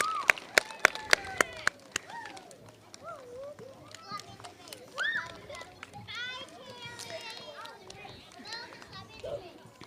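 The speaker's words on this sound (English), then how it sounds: "I'm hearing a lot of extra talking." Many children chatter and call out together in a school hall during an elementary awards assembly, a lively overlapping hubbub with sharp claps and bangs near the start and an adult voice rising over the crowd.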